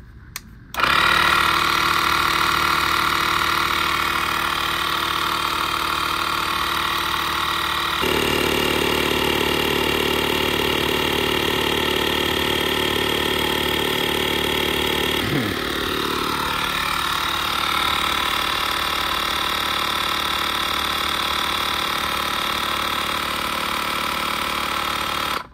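A portable electric tire pump runs steadily while inflating a car tire toward 31.5 PSI, a continuous close motor drone with a brief pitch shift midway and no talking.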